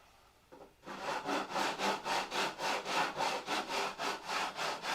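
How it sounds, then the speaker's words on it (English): Steady back-and-forth rasping of a sanding block on wood, about a dozen even strokes in a regular rhythm, close and fairly loud, after a brief quiet start. "So now I'm kind of block sanding the edge."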